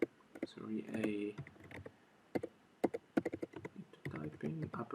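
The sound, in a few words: typing on a computer keyboard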